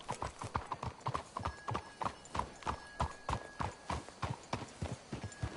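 Horses in Red Dead Redemption 2 walk with steady clip-clopping hooves, a close, rhythmic run of distinct beats that continues throughout.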